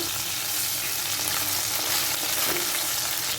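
Soft-cooked eggplant fries in a pan for a prawn gravy, a dense, even sizzle that hisses continuously up close with no pauses or voices.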